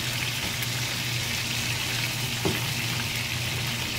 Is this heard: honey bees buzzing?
no